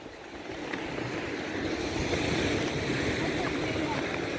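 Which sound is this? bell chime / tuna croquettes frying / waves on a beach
waves on a beach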